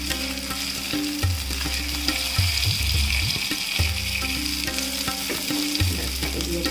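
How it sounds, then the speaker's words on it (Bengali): A salmon steak fries in a pan with a steady, close sizzle and hiss that runs unbroken through the whole stretch, with occasional low bumps and no speech. "তার মানে আমাদের মাছের একটা পিঠ ভাজা মোটামুটি হয়ে যাচ্ছে।"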